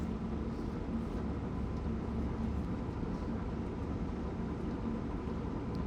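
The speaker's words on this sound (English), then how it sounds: "I just like listening to the noise of the train as well." An ACS-64 electric locomotive running on the Providence–Boston line in Train Sim World 3. A steady, even rumble of motor and wheels, with a faint whining hum held throughout.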